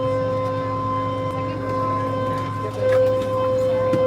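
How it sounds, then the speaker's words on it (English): A steady electronic siren tone holds over a constant engine hum inside a jetfoil ferry to Sado Island, Niigata, Japan, with a brief shuffle and a louder bump near the end. "There's a siren going on."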